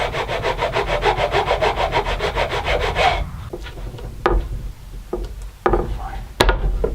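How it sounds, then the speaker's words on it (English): A file rasps back and forth across a small wooden piece in fast, rhythmic strokes for about three seconds, then the wood is handled with a few sharp knocks and taps. "I'll clean it up with a file so I can get a nice tight fit."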